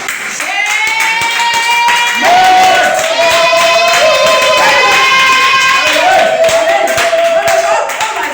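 A church congregation acclaiming the Lord, with rhythmic clapping and cheering voices rising together, loud and close, mixed with sustained singing or shouting tones throughout.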